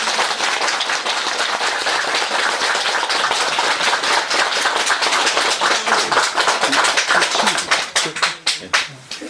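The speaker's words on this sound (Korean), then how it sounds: "자, 우리 좀 박수를 좀" A room full of people at a Buddhist question-and-answer gathering applauds steadily for several seconds. The clapping then thins into a few separate, close claps at the end.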